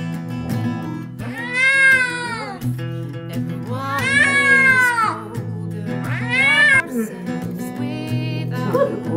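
A kitten meows loudly and insistently during a blood test for FIV, drawn-out wailing cries repeated three or four times at close range, with a steady low hum underneath.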